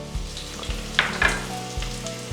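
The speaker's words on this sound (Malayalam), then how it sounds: "50 ഗ്രാം ഇഞ്ചി ചെറുതായി അരിഞ്ഞ് നമുക്ക് ഇട്ട് കൊടുക്കാം." Finely chopped ginger sizzles in hot oil in a pan for a murrel fish curry, with a steady close frying hiss and a few sharp clinks and scrapes of stirring, no talk.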